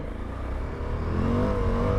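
A Suzuki V-Strom 1050DE motorcycle pulls away on a gravel road, engine note rising steadily in pitch and loudness as it accelerates, heard close with tyre crunch underneath.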